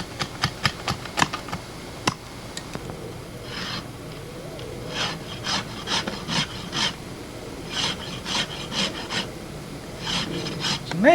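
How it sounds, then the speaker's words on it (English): A rasp filing a wooden primitive bow, rhythmic scraping strokes repeated close by. A few sharp ticks come first, then steady rubbing passes follow one after another. "It's amazing how much can get done with rasp control."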